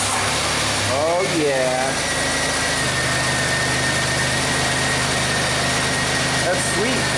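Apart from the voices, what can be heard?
Buick 3800 V6 engine starting and idling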